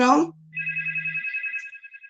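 A brief voice gives way to a telephone ringing in steady repeated electronic trills, close and clear, continuing to the end.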